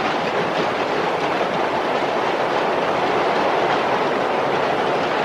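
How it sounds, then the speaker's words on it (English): A New York City subway car from 1967 roars along the tracks in a steady, loud wash of rattling and rumbling wheel noise, with no voices over it. "This is on a New York City subway car."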